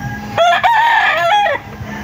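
A gamefowl broodcock rooster crows once up close, a loud drawn-out call of about a second and a quarter that rises and then falls at the end.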